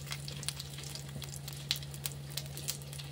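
Asafoetida, cumin seeds and red chili sizzling in hot oil, a soft steady frying hiss with scattered sharp pops and crackles, close and fairly quiet, with no voices.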